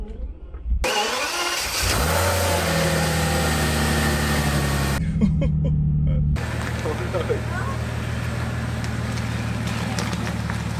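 A Bentley Continental GT fitted with a Supersports body kit starts up and settles into a deep, steady idle, then moves off with a smooth engine hum as a person talks over it.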